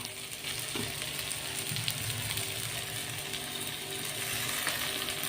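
Cashew and melon seed paste frying in a pan with chopped tomato for palak paneer, giving a steady close sizzle with occasional stirring scrapes and no talk.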